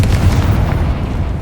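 Confringo fire spell blast in Hogwarts Legacy on PS5, a loud, close burst of dense, rumbling noise that holds steadily through the brief moment before easing slightly.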